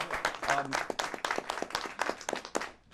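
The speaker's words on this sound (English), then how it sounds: "Yeah, you can clap them." Scattered applause from a studio audience on a political talk show, a few seconds of uneven clapping that rises and thins out without settling into a steady roar.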